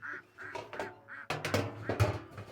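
A duck quacks repeatedly on a farm with goats, ponies and a rooster around, its nasal calls coming in an irregular run of close, moderately loud bursts over low rustling background noise.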